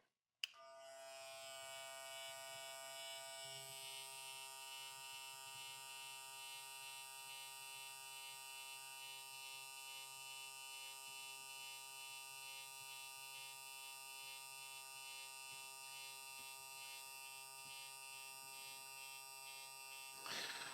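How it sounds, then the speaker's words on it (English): A Klipaz MC1 charcoal hair clipper switched to its first speed, around 8,300 RPM, buzzes steadily right at the mic, a bright even whine with a click at switch-on and a slight jolt near the end. "when I go ahead and turn this clipper on the first setting, I'm going to drop it down by the mic"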